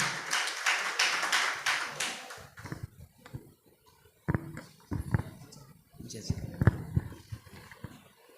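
An audience applauds to welcome the leaders of a play at a gurukul gathering, a burst of dense, fairly close clapping for about two seconds, followed by scattered taps and knocks with people talking nearby.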